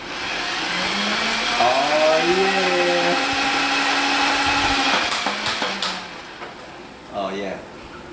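A Nerf Gatling blaster's motor revs up under the rev trigger, a rising whine held steadily for several seconds before winding down, with an excited voice exclaiming over it near the start and end.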